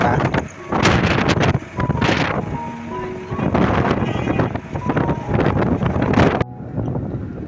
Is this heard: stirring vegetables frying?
no